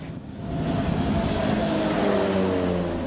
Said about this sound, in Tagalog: Nagpalipad ng eroplano ang BFAR